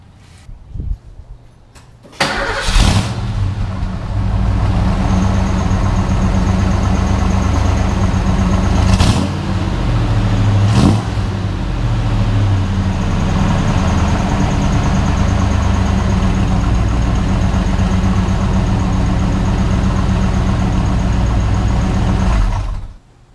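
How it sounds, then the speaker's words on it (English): A Fox-body Ford Mustang with an off-road H-pipe exhaust starts and settles into a deep, steady idle through a loud exhaust, rumbling for about twenty seconds with a couple of revs or clunks. "let's lower it down and fire it up."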